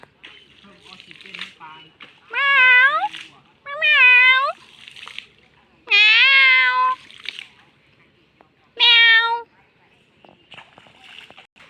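Two cats playing meow in four distinct, loud, drawn-out cries spaced a second or two apart, with soft rustling and a voice speaking quietly between them.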